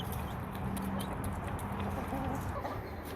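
Hens on a farm cluck softly beneath a steady, dense background of farmyard noise, with no clear talking.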